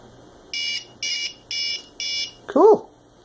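A battery backup unit gives four evenly spaced electronic beeps, each about a quarter second long, close by. A short chirping sweep follows them.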